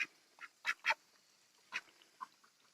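A few sparse quacks from Mani ducks, a self-hatching duck breed, come through faintly, spaced unevenly with quiet gaps between the short calls.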